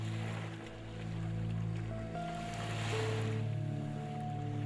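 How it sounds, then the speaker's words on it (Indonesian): Ocean waves break on a beach with a continuous rushing wash that swells and fades, heard beneath sustained tonal music. "Peristiwa ombak menggempur pantai ini adalah suatu peristiwa alami sebagai peristiwa yang lazim saja di pantai."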